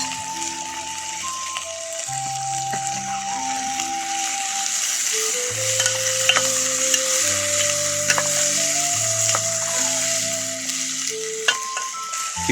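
Vegetable khichuri sizzles steadily in a pot on an outdoor fire in a garden in France, with background music carrying a melody over the frying and no talk.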